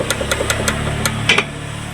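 Loose, worn rack end on a diesel Hyundai Accent knocking under a steady engine idle hum, giving about six sharp clunks at irregular spacing, with a louder double knock near the end.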